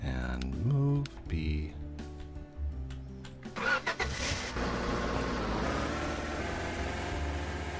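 A car in the Roblox game Lumber Tycoon 2 starts up and drives off, its engine settling into a steady, moderately loud hum after a few choppy game sounds at the start.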